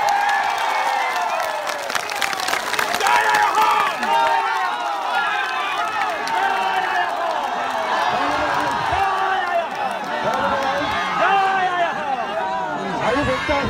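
A large crowd at a protest rally against CAB at Latasil, Guwahati, claps and cheers continuously in a loud sustained roar, with voices mixed through the noise.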